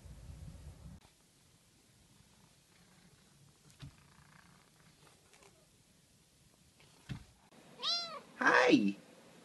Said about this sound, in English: I love my little kitty.